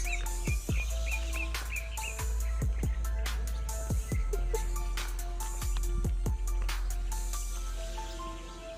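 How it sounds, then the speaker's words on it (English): Several birds chirp and sing outdoors in Los Angeles in quick repeated phrases over a low constant background hum, fairly close and steady throughout. "Listening to birds."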